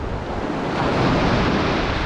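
Ocean waves on rough sea while fishing, a steady loud wash of surf mixed with wind buffeting the microphone, swelling slightly toward the end, with no voices.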